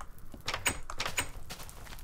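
A wooden door in the TerraFirmaCraft video game opening and closing: a couple of quick, soft knocking clicks about half a second apart, fairly quiet and heard alone.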